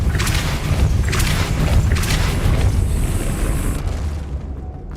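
The Depulso spell is cast in the video game Hogwarts Legacy, a heavy booming burst with a rumbling low end that swells and then fades out over a few seconds.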